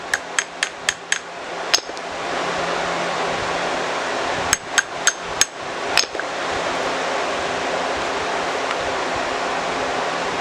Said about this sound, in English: Hammer it in a little bit by itself.